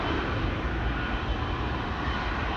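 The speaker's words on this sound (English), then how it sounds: "How could you not be happy when you see a 777 like this?" A KLM Boeing 777 at Amsterdam Schiphol Airport, a steady loud jet engine roar with broad rumble, continuous and unbroken, no voices.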